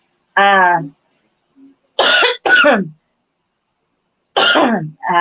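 A few sharp, harsh coughs and throat-clearing bursts close to the mic, separated by short silences, with a voiced groan at the start.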